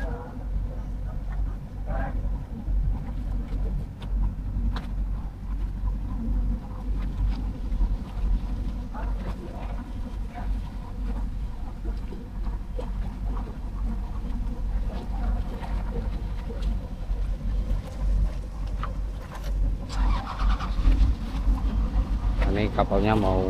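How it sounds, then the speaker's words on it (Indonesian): A pinisi ship pulling away gives a low, steady engine rumble mixed with wind buffeting on the microphone. Some splashes and a voice come in faintly over the continuous drone. "Kapalnya mau berangkat lagi nih teman-teman."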